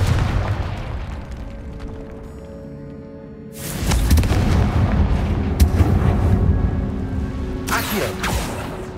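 A Confringo spell explosion in Hogwarts Legacy bursts in loudly after a quieter stretch, followed by a rumbling, crackling tail and a second sharp blast near the end.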